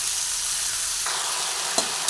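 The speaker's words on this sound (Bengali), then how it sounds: "দু মিনিট মতো একটা দিক ভেজে নিয়ে" Okra (bhindi) frying in a pan, a steady close sizzle running throughout, with a brief stirring scrape near the end.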